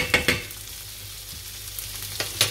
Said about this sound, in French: Et on laisse bien cuire tout ça